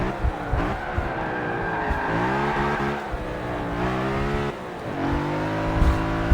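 Racing cars roar through a video game race beside an Audi, with engines revving up and down in rising and falling pitch and tires squealing, loud and continuous.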